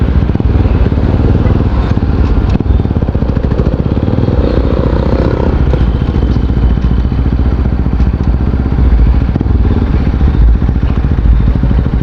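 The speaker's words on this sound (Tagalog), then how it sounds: "Ang ingay ng tambutso." A Kawasaki RS 200 sport bike with a loose, loud exhaust runs right at the microphone, its engine a continuous raw, crackling roar that never drops for the whole stretch.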